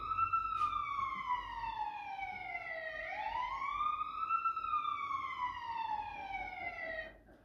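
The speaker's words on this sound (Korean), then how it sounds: "이 소리는 건물에서 화재가 발생했을 때 들을 수 있는 화재 사이렌 소리입니다." Building fire alarm siren wailing loud and close, a single pitch sweeping slowly down, then up, then down again over several seconds before cutting off.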